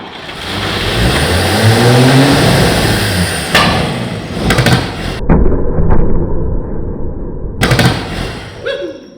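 An engine cranks, catches and revs hard in loud, rough bursts, then cuts out and roars again near the end, close by with no talk over it.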